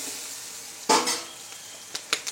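Turmeric, chili powder and garam masala are stirred together in a hot pan for Maharashtrian brinjal bharit. One sharp burst of sizzling and stirring is followed by quiet, then a few light clinks of utensil on pan, with no talking.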